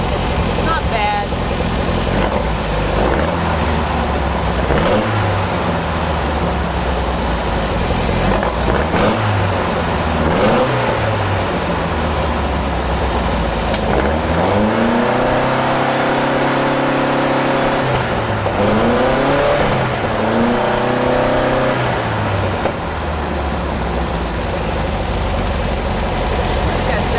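A Beck 550 Spyder replica engine runs nearby, with a slightly high idle rising into several revs that climb and fall in pitch. Someone talks over the engine noise.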